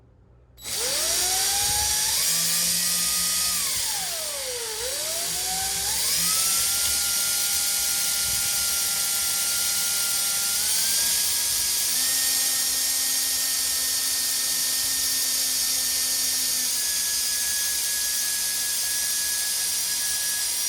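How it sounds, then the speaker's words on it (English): A power drill whines loudly and continuously, its pitch dipping as the bit bites into a wooden cabinet, then rising and holding steady as it cuts through. "then drill 2 starter holes"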